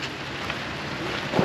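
Steady rain patters on a boat outdoors during anti-fouling work, a broad, even hiss of drops with a brief louder knock near the end and no voices.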